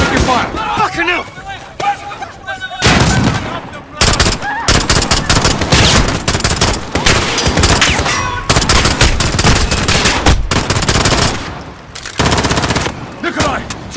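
Loud, rapid bursts of gunfire in a Call of Duty video game crackle almost continuously, with automatic fire and sharp single shots, broken by brief pauses and shouted voices.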